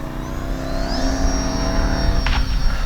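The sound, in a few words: RC plane engine, FMS PA-18 Super Cub taking off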